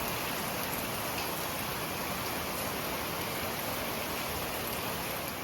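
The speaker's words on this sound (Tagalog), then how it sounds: "Pakita ko sa inyo guys, naulan sa labas." Steady rain falls outside, a dense, even hiss that holds without a break and stays moderately loud and unchanging throughout.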